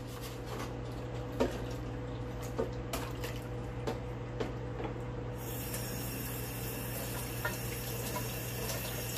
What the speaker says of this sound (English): Guess I'll just wash this knife.